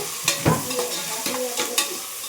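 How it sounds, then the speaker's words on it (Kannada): Onions frying in oil in a pan sizzle continuously, with several distinct scrapes and clinks as a spoon stirs them, nearby and with no voices. "ಈರುಳ್ಳಿ ಎಲ್ಲ ಚೆನ್ನಾಗಿ ಫ್ರೈ ಆಗಿದೆ"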